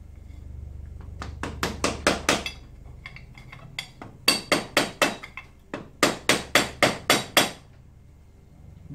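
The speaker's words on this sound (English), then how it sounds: "Where's the magic hammer?" A hammer striking hard metal while a Honda V-twin cylinder head is removed, close and loud, in three quick runs of about five ringing blows each, with short pauses between the runs.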